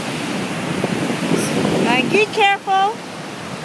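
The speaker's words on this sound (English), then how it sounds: "the amount of water that's pouring down the sides" A hidden waterfall in Iceland pours heavy water down the sides of a small valley, giving a steady broadband roar under wind noise while someone speaks briefly near the end.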